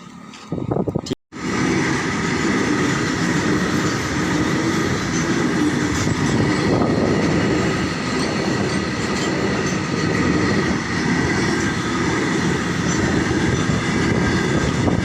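A train rumbles past close by, a steady loud roar of wheels and carriages that continues without a break after a brief dropout at the start.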